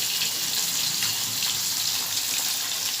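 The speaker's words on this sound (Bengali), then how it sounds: "জল দিয়ে দেবো, নাহলে একটু পুড়ে যাবে।" Water pours steadily into a pan of spiced fish curry made with gathi and pomfret, turmeric and cumin powder, a continuous close hiss and splash with a faint sizzle underneath, no talking.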